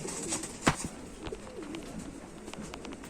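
Sialkoti pigeons, a purebred pair kept for flying, coo in soft low repeated calls, with a sharper burst near the start and lighter calls scattered throughout at moderate distance.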